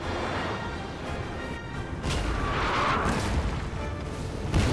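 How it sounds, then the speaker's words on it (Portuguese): Cannon barrages boom and crash across a Napoleon: Total War battlefield, a dense continuous rumble of distant artillery fire and impacts with a louder burst at the end. "Enquanto isso, tá chovendo bala de canhão aqui."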